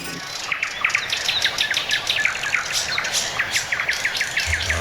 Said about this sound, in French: Ah, des bruits d'oiseaux.